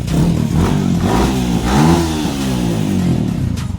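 A Yamaha Sniper 155 motorcycle engine revs up and down loudly nearby, pitch rising and falling in short surges with a mechanical clatter underneath.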